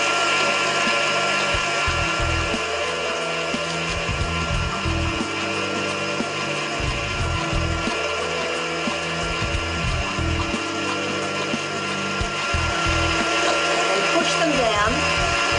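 KitchenAid stand mixer at speed 4 driving a fruit and vegetable strainer attachment, pressing tomatoes, garlic and chilli: a loud, continuous motor whine with grinding and irregular thumping pulses throughout, close up.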